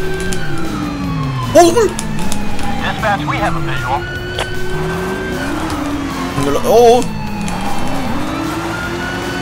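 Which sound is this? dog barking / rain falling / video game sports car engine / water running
video game sports car engine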